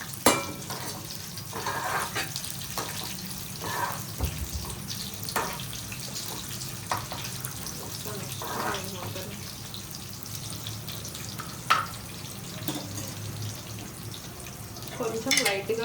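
Dried red chillies and curry leaves fry in hot oil, giving a steady soft sizzle with scattered crackles and occasional stirring clinks, heard close and moderately quiet throughout.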